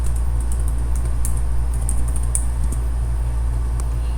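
Steady rapid typing on a computer keyboard, close and fairly loud, a continuous stream of light key clicks entering a title, with a constant low hum underneath and no voices.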